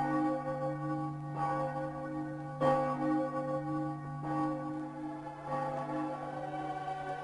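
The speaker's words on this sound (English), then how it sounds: "out over the city, the bells were ringing the Vesper hour" Church bells ring out over a city, sounding a low, humming resonant tone with several soft strikes spaced a second or two apart, steady and somewhat distant.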